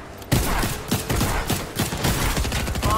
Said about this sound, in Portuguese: eu tô tomando muito tiro de sniper